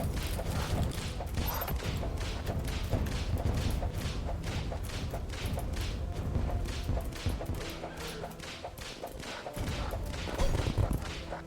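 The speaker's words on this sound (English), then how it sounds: "Which one's shooting bullets?" Bullets fire in rapid succession in a modded championship run of a video game, with sharp impacts and clattering in a steady stream among busy game effects, and no voices over them.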